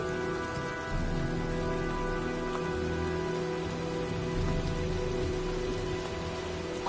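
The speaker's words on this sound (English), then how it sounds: "looks like a storm's coming." Steady rain pours in a storm scene from the PlayStation 4 game Heavy Rain, a continuous even hiss of drops on surfaces with a faint low rumble underneath, no voices.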